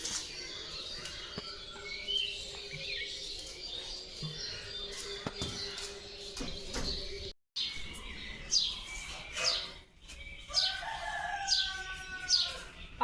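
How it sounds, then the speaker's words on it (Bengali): Neighbouring household's chicken clucking outdoors in a village, faint intermittent calls with chirping birds and light background sounds, mostly distant. "মুরগি কিন্তু আমাদের বাড়ির না, পাশের বাড়ির মুরগি ডাকে।"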